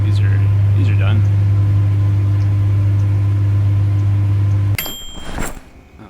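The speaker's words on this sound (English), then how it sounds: "And we will microwave them." A microwave oven runs with a steady loud hum until it stops, after which voices talk over quieter room sound.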